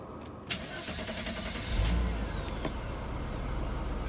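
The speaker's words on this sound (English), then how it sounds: "Start the engine." A Mercedes W124 with an M103 engine starts up, a low mechanical rumble rising after a short crank and settling into a steady idle, close and continuous.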